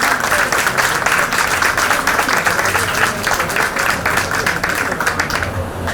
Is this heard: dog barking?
no